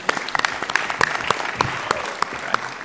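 Conference audience applause at a game developers' panel on indie VR, a few seconds of clapping with distinct individual claps standing out sharply near the listener.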